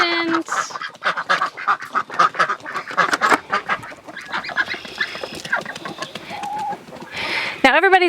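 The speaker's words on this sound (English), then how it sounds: "Good morning, ducks." Ducks on a homestead quack loudly and continuously in a close, busy flock, with overlapping honks and calls and a brief squeal near the end.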